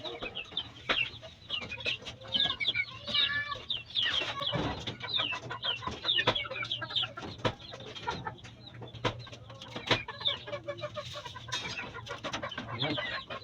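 Young chicks peep and cheep busily while being fed crumble feed, a dense, continuous chorus of high chirps with a few sharp taps and knocks from the feeder, close and lively.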